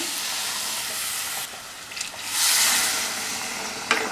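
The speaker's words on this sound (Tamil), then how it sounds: "சேர்த்ததுக்கப்புறமா இதை நல்லா வதக்கி விட்டுடலாம்." Spiced sambar powder sautéing in a hot pan gives a steady close sizzle and hiss, swelling louder midway with brief scraping stirs, no voices over it.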